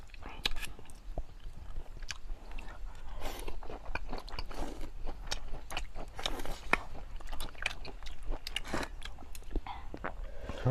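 Rural man eating two bowls of noodles and two side dishes, with loud close slurps, bites and crunchy chewing repeating steadily throughout, small scrapes of bowl and utensils between mouthfuls.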